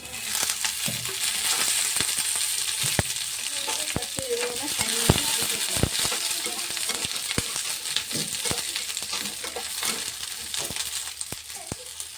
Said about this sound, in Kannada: ಈರುಳ್ಳಿ ಹಾಕೊಂಡೇನು ರೀ ಫಸ್ಟಿಗೆ ಅದಕ್ಕೊಂದು ಸ್ವಲ್ಪ ಎಣ್ಣೆ ಹಾಕೋತೀನಿ ರೀ